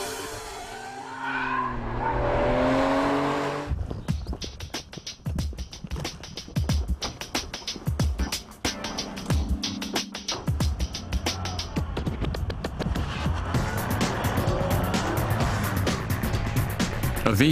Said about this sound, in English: the Italian long-distance runner, the Ferrari 575 M Maranello